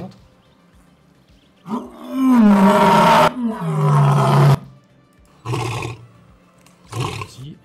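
A tiger roars in a recording played back: one long, loud, rumbling roar, then two shorter bursts after brief pauses, with no voices.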